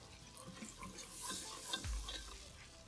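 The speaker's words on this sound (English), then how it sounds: "we got our butter melted and we're adding 1/4 cup of flour. We're just gonna whisk that." Flour is whisked into melted butter in a pot to make a roux, a faint soft swishing and light scraping with a quiet bubbling undertone and one low knock near the end.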